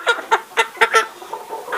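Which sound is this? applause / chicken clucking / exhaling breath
chicken clucking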